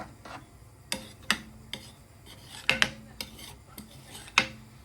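Tempering being stirred into sambar in a metal pot: a spoon clinks and scrapes against the pot in about a dozen sharp, irregular knocks, close and fairly quiet, with no talking.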